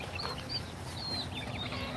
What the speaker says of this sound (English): Little Banny chickens here.